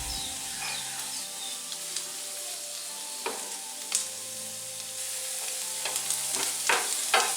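Onions and curry leaves frying in a pan for a Kerala thalu (taro leaf) curry, a steady sizzle with scattered stirring scrapes and small pops throughout, close and moderately loud with no talking.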